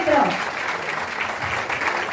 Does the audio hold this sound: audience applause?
yes